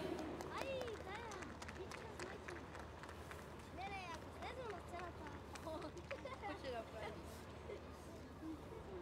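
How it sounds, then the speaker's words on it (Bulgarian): A crowd at the opening ceremony of an international masquerade games festival applauds a visiting group from Slovenia, with a dense spread of clapping mixed with crowd murmur and swooping sounds throughout. "Аплодисменти за групата от Словения."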